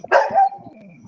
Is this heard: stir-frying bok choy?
no